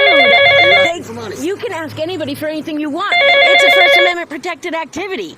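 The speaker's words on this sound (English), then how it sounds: "Apologies for the annoying phone ringing" A telephone bell rings in two loud, trilling bursts near the microphone while someone talks steadily over and between the rings.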